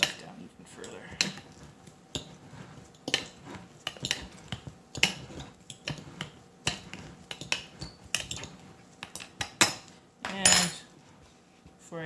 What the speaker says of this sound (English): I'm going to use the fork again, just for a little bit more of a flattened edge to push this stuff down even further.